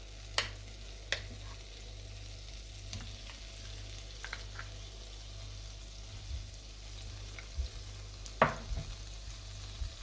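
Butter or desi ghee, two to three teaspoons, warming and melting in a pan before edible gum is roasted for gond laddu, a soft low sizzle broken by a few sharp clicks and clinks, no voices.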